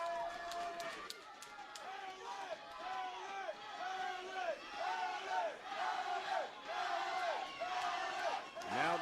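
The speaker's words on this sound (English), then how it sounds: "Now the crowd gets into it." Boxing crowd roaring and cheering during a main-event contender bout between Alex Perez and Francisco Figueroa as the fighters trade punches at center ring, a dense, sustained wave of voices building and swelling with yells.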